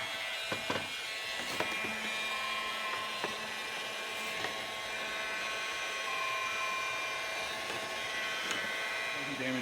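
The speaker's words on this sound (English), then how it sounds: "So now we're gonna hit it with a heat gun." A heat gun blows steadily for a long stretch while heating an aluminum hub to free a wheel bearing, a constant broadband whoosh with occasional clicks and knocks of handling over it.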